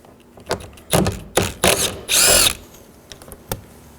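A power drill removes a 10mm bolt near the master window switch on a 2013-2019 Nissan Sentra front door, heard as several short whirring bursts with one longer run and a final quick spin, close and fairly loud with no talk.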